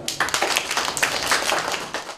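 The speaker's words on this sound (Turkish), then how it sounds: "Alkışlıyoruz." Applause from a school audience at an Erzurum primary school as pupils receive their report cards, steady dense clapping filling the room throughout without pause.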